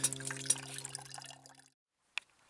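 Clean water squeezed out by hand during an overnight hike, trickling and dripping into a container for a short spell, then stopping, with one last faint drip after a pause.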